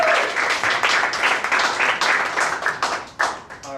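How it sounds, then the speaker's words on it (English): An audience at an improv magic show applauds, a dense, sustained burst of many hands clapping close and loud for several seconds before starting to thin out at the end. "Give her a round of applause."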